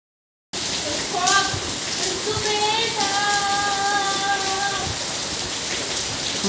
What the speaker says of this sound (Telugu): వర్షం ఫ్రెండ్స్, బీభత్సమైన వర్షం